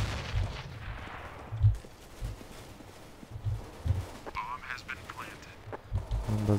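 Gunfire in Counter-Strike: Global Offensive: scattered single shots and short bursts, some sharp and some muffled, spread across the span under a talking voice.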